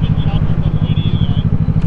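A motorcycle engine drones with a close, pulsing low rumble that runs steadily throughout as other riders go by, and a voice talks over it.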